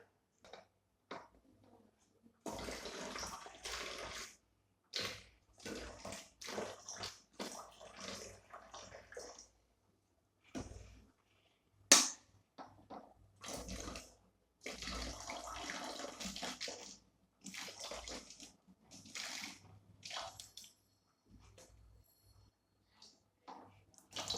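Water is poured between plastic bottles in a school maths lab, split into three equal parts, with many short, close splashing gurgles coming in irregular bursts separated by brief silent pauses.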